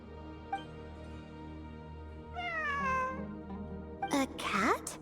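Cat meows in the video game Genshin Impact, during a ruins exploration event in Sumeru: a short faint mew, then a longer descending meow and a sharp rising cry near the end, over a steady game backdrop.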